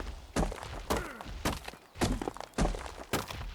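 In the video game ARK: Aberration, a rock is chopped with repeated heavy, dull thunks, about six strikes landing at a steady rhythm, close and loud, with no talking.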